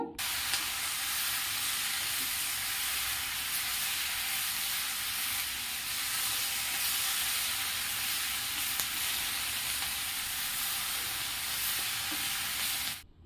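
Cooked broad beans and vegetables stirred and sautéed in a pan for a breakfast fry, giving a steady, close sizzle with faint scraping of stirring throughout, no talking.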